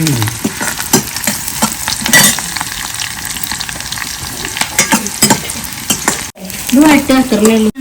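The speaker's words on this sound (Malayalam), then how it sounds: "മല്ലിയുള്ളി ഒരു ഇഞ്ചി ഒരു പത്തല്ലി വെളുത്തുള്ളി വെളിച്ചെണ്ണയിൽ വഴട്ടുക" Shallots, ginger and garlic sauté in coconut oil in a pan, a steady loud sizzle and frying hiss broken by scraping stirs close up, with no talking.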